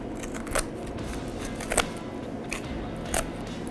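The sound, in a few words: cutting the backbone out of a turkey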